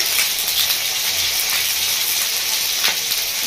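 Pointed gourd (potol) frying in a pan for a Bengali-style doi potol produces a loud, dense, continuous sizzling hiss close up.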